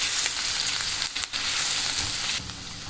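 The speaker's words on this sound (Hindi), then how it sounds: "कुकिंग ऑयल मैंने गर्म कर लिया था, इसमें मैंने प्याज शामिल कर दिया।" Onions sizzle and crackle steadily in hot oil, a close, continuous frying hiss with a brief stir partway through.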